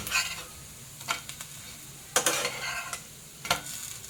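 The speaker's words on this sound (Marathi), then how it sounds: "हे आता हे पण 2-3 मिनिट एका साईडने आपण भाजून घेऊया" Baby shrimp patties fry in a pan with a soft, steady sizzle, broken by a few sharp clinks and scrapes of a utensil against the pan, close by with no talk.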